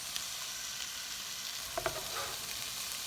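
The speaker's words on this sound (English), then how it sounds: "I'm gonna let it cook for a while until the potatoes get a little darker and the vegetables get really soft" A vegetable hash of potatoes and soft vegetables frying in a pan hisses in a continuous, even sizzle, with a few faint utensil taps, close and moderately quiet.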